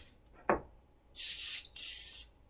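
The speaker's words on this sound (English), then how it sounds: "spray with a little bit of cooking spray" Cooking spray misted onto a baking pan lined for tamales, in two close hissing bursts, the first about half a second and the second slightly shorter, after a faint soft knock, with no talking.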